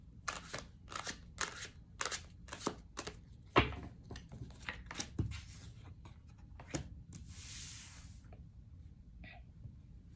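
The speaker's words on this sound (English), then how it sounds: "One more shuffle." Tarot cards riffle and slap through a series of crisp, papery shuffling bursts, close and fairly quiet, with a softer hissing slide near the end.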